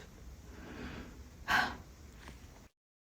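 A person takes a sharp, gasping inhale partway through, a labored breath linked to decreased lung function, close and fairly loud, with softer breathing before and after and no speech.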